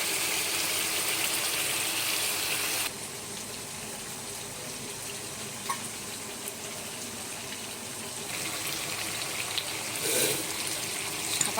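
Hot water poured over chicken browning in a pan, a steady gushing pour that runs on for several seconds, fairly close with no one speaking.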